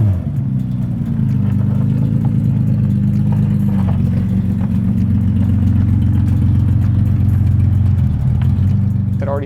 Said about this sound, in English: We're using the 3-inch inlet-outlet Vibrant titanium muffler, hoping to still add a really nice sound